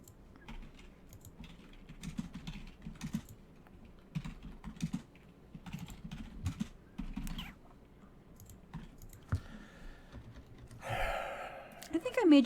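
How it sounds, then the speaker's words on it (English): Typing on a computer keyboard during an online poker session, with bursts of quick, fairly close key clatter separated by short pauses, followed near the end by a sharp gasp or breath. "I hear you typing."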